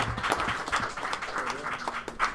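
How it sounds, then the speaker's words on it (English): Congregation applause during a Torah portion worship gathering, a modest round of clapping from a small group with uneven bursts and some voices mixed in. "Let's give the Most High a round of applause."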